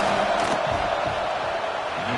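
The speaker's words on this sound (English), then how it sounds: "This crowd trying to do its part to get inside the kicker's head." A packed football stadium crowd roars steadily during a field goal attempt at Ohio State against Washington. The dense roar is loud and continuous.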